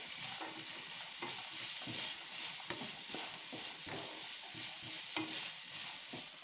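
Green peas and carrots stir-fry in a pan with a continuous bright sizzle, punctuated by regular scraping strokes of a spatula at a close, steady rhythm.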